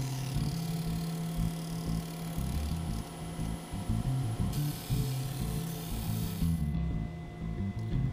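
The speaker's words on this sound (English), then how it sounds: "now I've moved over to my disc sander, and I'm simply going to sand up to my layout line on all four corners" A disc sander grinds wood corners down to a layout line in a workshop, its motor humming steadily while the workpiece is pressed on in short repeated bursts, then the sanding stops and only a faint hum remains.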